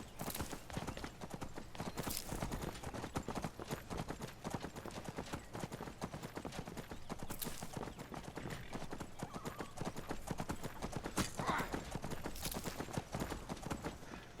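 In a video game, a horse's hooves clip-clop in a brisk, steady rhythm close by, with a few short whinnies breaking through the continuous trotting.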